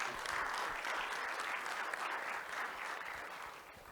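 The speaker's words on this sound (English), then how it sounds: "A round of applause for my team." A conference audience at MWC Africa 2022 applauds a panel with steady, dense clapping that holds for several seconds and then slowly fades, moderately loud in a hall.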